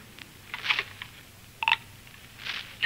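Telephone dialing effect in a radio drama set at a phone booth: a few short tonal beeps and clicks arrive in separate bursts with pauses between them, fairly close and clear, without any voices.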